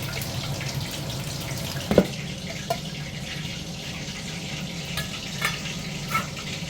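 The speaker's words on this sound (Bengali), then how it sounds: "লাল করে একটা একটা করে ভালো করে ভেজে নিতে হবে" Food frying in a pan during Bengali home cooking, a steady close sizzle with a few small clinks and stirring taps over it, no voices.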